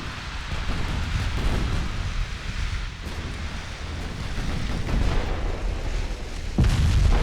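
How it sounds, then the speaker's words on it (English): Heavy naval gunfire from 1905-era Japanese and Soviet battleships, including 13-inch guns, pounds the warships in Ultimate Admiral Dreadnoughts, a dense continuous rumble of booms and impacts with a louder blast near the end. "Battleship line also taking fire on the damaged warship."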